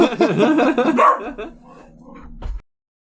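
A dog barks and yips close by, several sharp calls in the first second, then quieter whimpers and a faint final yelp while people talk nearby.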